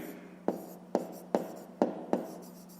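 A pen writes out a fifth-grade math solution on paper, five distinct strokes tapping and scratching at an even rhythm, close and quiet, with no voices.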